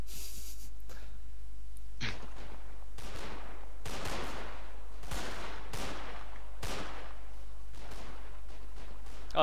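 Rifle volleys crack out in the Mount and Blade Anglo-Zulu mod, about ten loud, sharp bursts at a steady, drill-like pace, each trailing off in a short echo.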